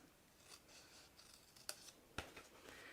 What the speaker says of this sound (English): I'm going to cut up each of those short score lines